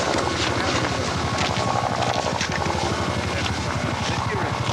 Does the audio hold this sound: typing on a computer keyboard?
no